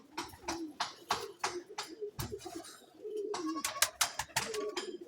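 Pigeons coo close by in a loft, low repeated throaty calls mixed with sharp wingbeat flutters and clattering taps, irregular and fairly loud with no clear speech.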